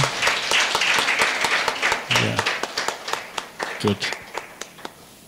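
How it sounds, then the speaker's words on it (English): An audience at a live International Day of the Girl Child event breaks into a round of applause, many hands clapping in a scattered, lively burst that thins toward the end, with a few spoken words over it. "A round of applause for them, please."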